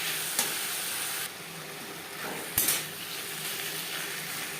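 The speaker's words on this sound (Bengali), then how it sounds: "পেঁয়াজ টমেটোর সাথে আলু বেশ ভালো করে মিক্স করে দেবো" Potatoes being stirred into a pan of spices, onion and tomato for a Bengali mourola fish dish, giving a steady close sizzle with scraping spoon strokes and a couple of sharper clinks against the pan.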